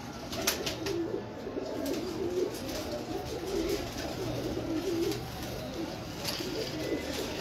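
Pigeons coo repeatedly nearby in soft, rolling low calls that recur every second or so, over a faint background of rustling and light chirps.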